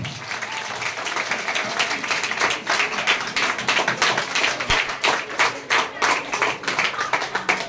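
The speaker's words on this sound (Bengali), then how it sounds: "আপনারা দয়া করে জোরে হাততালি দেবেন।" An audience at a district cooking competition inauguration applauds, with dense, loud clapping that swells and carries on steadily for several seconds.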